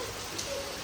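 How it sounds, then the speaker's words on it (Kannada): Heavy monsoon rain pours down in a dense, even hiss of drops on surfaces, brief and with no voices. "ಜೋಳು ಮಳೆ ಬರ್ತಾ ಉಂಟು."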